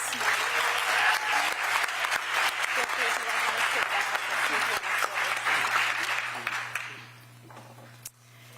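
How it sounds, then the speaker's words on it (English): Hearty applause from a ceremony audience for student MCs at a DC educator awards event, a thick sustained clatter that carries for several seconds before fading away, leaving a low electrical hum and one last clap. "can we give one more applause to our student MCs?"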